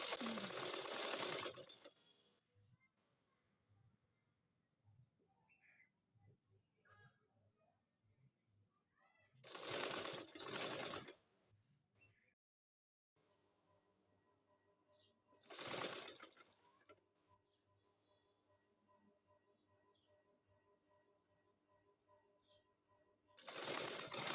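A sewing machine stitches gathered pleats into burqa fabric in three loud bursts, each running a second or two. Quiet stretches of faint handling noise separate the bursts.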